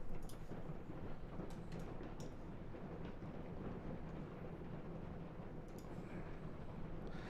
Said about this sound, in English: It's like raining, I think. But it's like really heavy rain. It sounds like rocks are falling on the ceiling.